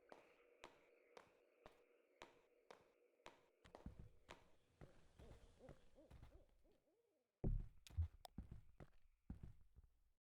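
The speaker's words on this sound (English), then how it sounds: "The owl's back." An owl hoots in the video game Kentucky Route Zero amid regular footstep-like clicks, a soft tonal drone fading out midway and a louder burst near the end.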